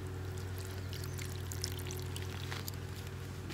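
Water poured into fish emulsion fertilizer for garden planting, a steady close trickle that runs for a few seconds over a low constant hum.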